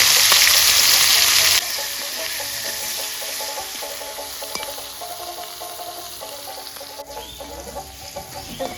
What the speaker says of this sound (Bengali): শুটকিটা ভাজা হয়ে গেছে